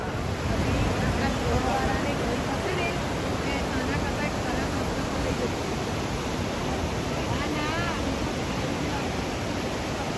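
Rushing river water of the Yamuna near Yamunotri temple in the mountains, a loud steady broadband roar that runs for the whole span with no breaks and no voices over it.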